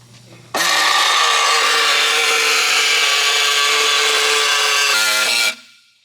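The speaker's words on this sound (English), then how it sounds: "Oops, I cut a brake line." A power tool whines loud and steady for about five seconds while cutting out car brake lines on a Honda K-series build, starting abruptly and stopping with a short spin-down.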